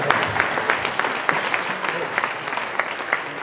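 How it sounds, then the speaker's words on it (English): An audience at an outdoor veterans Stand Down event at UConn breaks into dense, steady applause with sharp individual claps, sustained and close throughout. "let's give her a round of applause"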